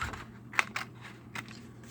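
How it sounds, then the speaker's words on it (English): A model airplane part for an air racer build is cut out, giving a few soft, close snips spaced irregularly over quiet background. "So I'm going to cut this out."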